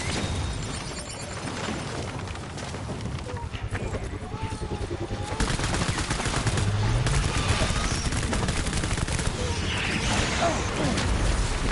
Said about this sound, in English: I'm shooting you in the face repeatedly with what you're supposedly weak to